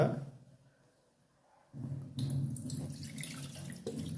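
Water is poured off melted beeswax, opening with a brief splash, then a quiet lull before a sustained pouring and trickling rush that runs to the end, close by.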